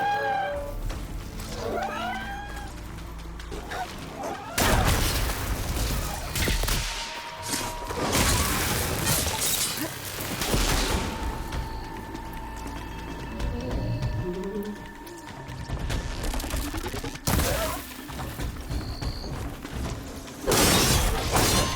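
Tripwire blasts and shattering impacts against machines in Horizon Forbidden West, a run of loud cracking bursts and whooshes spread across the span amid game effects and creature cries.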